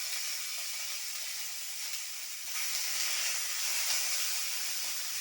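Two tomatoes fry in about one and a half spoons of oil in a pan, giving a soft, continuous sizzle that swells slightly partway through, with no talking.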